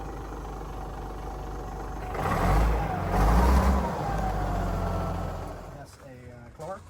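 Old Moxie D15 haul truck with a Clark four-speed power-shift transmission: a diesel engine cranks and catches, then runs in a deep steady rumble, with people talking nearby and a brief rattly clatter near the end.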